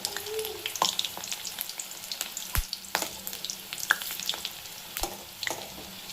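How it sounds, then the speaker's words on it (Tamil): Onion bhaji batter sizzles in hot oil, a steady close crackle with scattered sharp pops and occasional utensil clinks. "இப்போ எண்ணெயில் இப்படி போட்டுக்கலாம் ஒன்று ஒன்றா."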